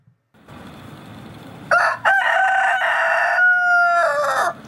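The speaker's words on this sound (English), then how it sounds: "Which brings me to my rooster." A rooster crows loudly and close by, one long drawn-out cock-a-doodle-doo in several strained segments, preceded by a brief low rumble with no other sounds around it.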